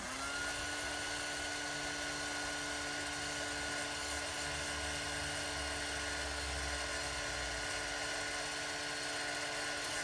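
An electric heat tool blows embossing powder off a wet envelope, a faint, steady high-pitched whir with a fan hum that holds unbroken throughout, alone without speech.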